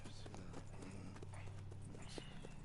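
Horse hooves clip-clop at a steady walking rhythm in Red Dead Redemption 2, faint and continuous under a low ambient hum.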